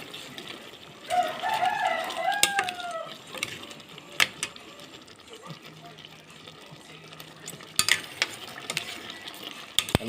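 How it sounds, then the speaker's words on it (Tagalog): A shrimp dish is stirred in a pan with scraping and clinking under a soft sizzle, while a rooster crows in the background and a voice speaks briefly. "Haluin lang mga idol"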